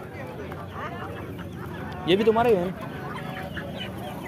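A chicken or rooster lets out a short burst of clucking calls amid bird market chatter, with people talking nearby in Hindi.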